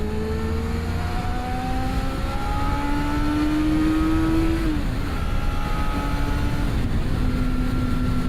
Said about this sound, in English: The acceleration on this FZR400 is just brilliant.